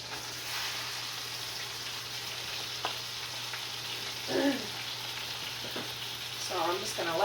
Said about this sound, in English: So I'm just going to let that sit for a little while so it gets like browned on it